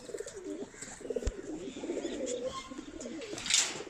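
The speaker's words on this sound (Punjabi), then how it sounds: "ਆ ਜੀ ਇਹਨਾਂ ਦੇ ਕਬੂਤਰ," Old Doaba-breed domestic pigeons coo softly and repeatedly, close by, with a brief sharp knock and faint chirps mixed in.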